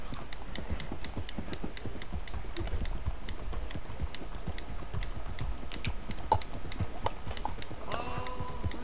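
Horse hooves clip-clopping at a steady, brisk rhythm in the video game Red Dead Redemption 2, close and continuous with faint clicks and background sounds.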